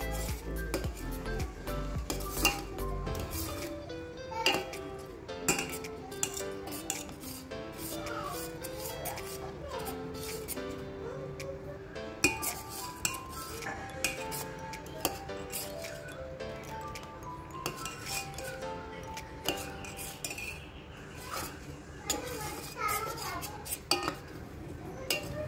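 A metal utensil scrapes and clinks in a bowl as cocoa powder is stirred in for homemade chocolate custard, with repeated small taps and clatters throughout and faint talk.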